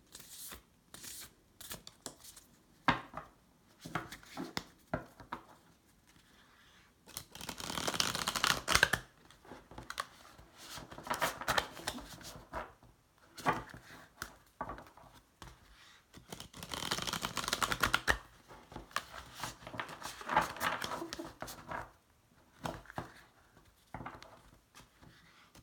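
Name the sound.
shuffling and drawing oracle cards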